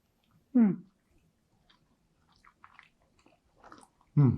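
Someone bites into a hot, crunchy farro risotto made with ancient grain, giving two loud, close crunching bites at the start and the end, with faint chewing and soft sounds in between.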